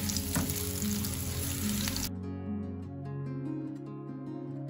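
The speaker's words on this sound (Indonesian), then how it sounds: "Kemudian tumis bawang merah dan bawang putihnya sampai harum dan agak kecoklatan." Shallots and garlic sautéing in hot frying oil, a steady bright sizzle that runs loudly for about two seconds and then settles into softer crackling under background music.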